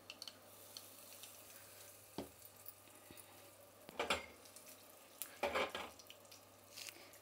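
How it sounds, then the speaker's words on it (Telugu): Mustard seeds, dried red chillies, asafoetida and curry leaves are tempered in hot oil for red chutney to go with akki rotti, giving a faint steady sizzle broken by a few soft stirring clinks and crackles. "ఇప్పుడు దీనికి పోపు పెట్టుకునేద్దాం."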